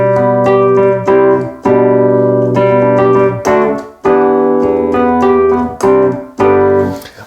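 Nord Electro Wurlitzer electric piano voice with the distortion switched on but set to zero, playing a rhythmic run of chords, each struck loud and close and then decaying, with no voices.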